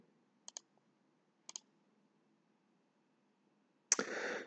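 Two quiet double clicks of a computer mouse, spaced about a second apart, selecting transaction checkboxes in Sage 200 accounting software, followed by a burst of broadband noise at the end.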